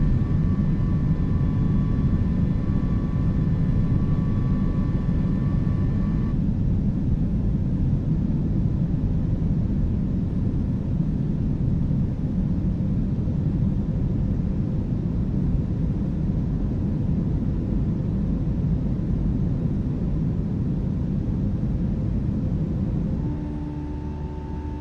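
Fenix A320 airliner with easyJet operations at Geneva in Microsoft Flight Simulator: a steady, loud engine roar and rumble fills the cabin throughout, with a faint tonal hum early on that fades, then a slight drop in level near the end.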